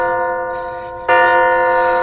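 A bell rings inside the indie horror game MADiSON, a sustained metallic tone with rich overtones that swells louder with a fresh strike about halfway through and keeps ringing to the end.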